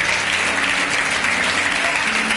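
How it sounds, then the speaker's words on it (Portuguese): A large church congregation at a youth meeting claps continuously in dense, steady applause that stays even in loudness throughout. "Eu queria que você aplaudisse Jesus por essa visão tremenda."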